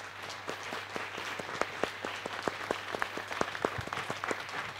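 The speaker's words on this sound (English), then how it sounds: "Et on va vous applaudir très, très fort." A conference audience applauds at the close of a dialogue event: a steady, moderately distant patter of many hands with sharper individual claps, lasting about five seconds with no voices over it.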